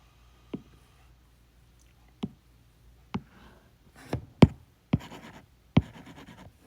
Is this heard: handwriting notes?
yes